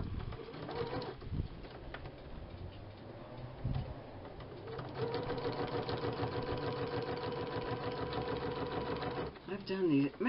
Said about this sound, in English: I'm going to stitch down, right down the center.